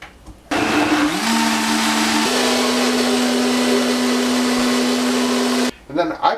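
Countertop blender running loud and close while blending a green smoothie with water, a steady high whirring roar with a motor tone that shifts pitch as it gets going, continuous for about five seconds before stopping.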